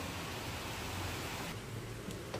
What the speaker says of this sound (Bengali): দেখছেন কি পরিমাণ বৃষ্টি নামছে।